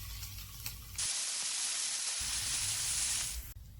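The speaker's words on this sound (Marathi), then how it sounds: "मी घालतेय हिरवी मिरची, त्यानंतर कांदा घालते." Green chili and onion hit hot oil in a pan, bursting into a loud, steady hiss that holds for about two and a half seconds before cutting off sharply, with no voices over it.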